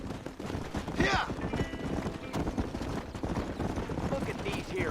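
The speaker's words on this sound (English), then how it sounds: "Look at these here horses." Horses gallop with busy clip-clop hoofbeats in the Western video game Red Dead Redemption, layered under game dialogue and a brief whinny-like cry, with steady mid-level rumble throughout.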